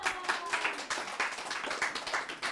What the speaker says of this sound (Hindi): क्लैपिंग, जोर से तालियां देखो